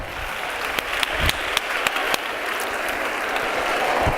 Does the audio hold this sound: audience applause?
yes